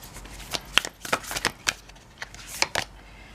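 A deck of astrology cards is shuffled close up in quick riffling bursts, several short rustling flurries spread over a few seconds with no talking.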